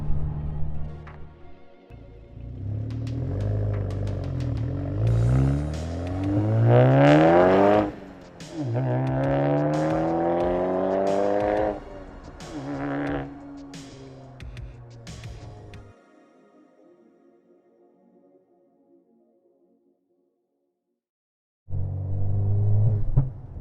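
A B8 Audi A4 with an aftermarket exhaust revs hard several times with rising and falling roars and crackling exhaust pops, then idles low before revving again.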